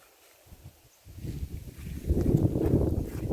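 Low, gusty rumbling swells up after a quiet start and grows into a loud, buffeting blast, like strong wind hitting a microphone outdoors.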